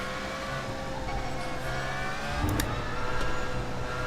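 A Porsche 919 LMP1 prototype engine revs hard in the iRacing simulator, a steady close mechanical drone that climbs and briefly shifts midway, with no talking.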